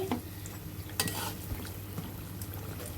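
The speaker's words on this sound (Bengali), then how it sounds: "এভাবে উল্টিয়ে পাল্টে ব্রাউন কালার হওয়ার আগ পর্যন্ত এভাবে ভেজে নিব" Layered nimki dough frying in oil over medium-low heat, a soft steady sizzle with a few scraping stirs of the pieces being turned, close and fairly quiet.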